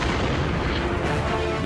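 Artillery explosions from the WWI game Soldats inconnus, a dense, loud barrage of overlapping booms and blasts that runs continuously with no pause and no voices.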